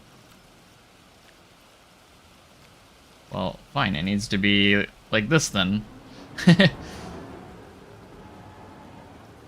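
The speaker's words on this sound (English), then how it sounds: "It's starting to rain again." Steady hiss of rain in the video game Planet Coaster 2 runs softly throughout, with a person talking over it in the middle.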